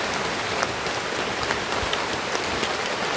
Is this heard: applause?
no